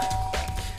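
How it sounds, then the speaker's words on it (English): A doorbell chime from the video game Danganronpa: Trigger Happy Havoc, heard as one short, steady electronic tone lasting under a second over a dense backdrop of game ambience. "I pressed the doorbell."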